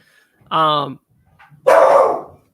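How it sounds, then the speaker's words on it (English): A dog barks at a pool maintenance worker outside a house: a loud harmonic bark, a pause, then a rougher, harsher bark, both close and unaccompanied by speech. "dog's about to attack the pool guy"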